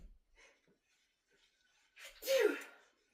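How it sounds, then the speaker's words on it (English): A single loud human sneeze bursts out near the end after a few quiet, faint kitchen noises, triggered while cooking with black pepper. "I gotta sneeze again."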